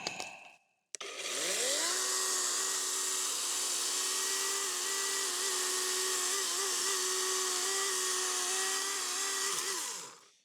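A battery-powered saw cutting outdoors on an off-grid island, a close, loud, steady high-pitched motor whine that kicks in after a brief pause and holds for about nine seconds before winding down.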